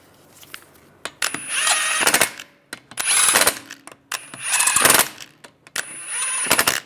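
A power tool tightens the wheel lug bolts on a 1998-2010 Volkswagen Beetle during a front hub job, in four loud rattling bursts with short pauses between them.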